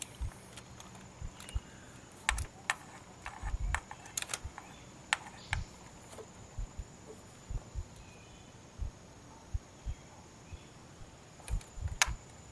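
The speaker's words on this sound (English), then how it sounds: "Now again, a 10mm, and you're going to bolt down your new solenoid valve." A 10mm wrench bolts down a new camshaft solenoid valve into aluminum on a 2008 Chevrolet Malibu, giving quiet, scattered metallic ticks and clicks at close range over faint background hiss.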